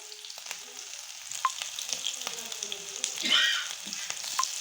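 Vegetable and potato seekh kebabs fry in a pan with a steady, close sizzle and crackle of hot oil, with a few soft stirring or handling sounds and no talking.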